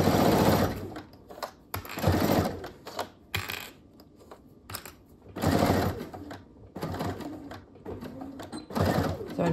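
A sewing machine bastes the straight sides of a fabric SnackPack bag, running in several short bursts of fast stitching separated by pauses, fairly close and loud.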